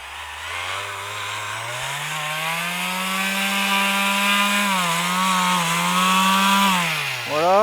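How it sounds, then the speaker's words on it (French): A motorized electric sander, running off an EcoFlow Delta Mini portable power station, drones continuously with a steady whine that rises slightly in pitch, close and fairly loud. "Voilà, avec ça tu ponces."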